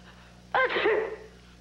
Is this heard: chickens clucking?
no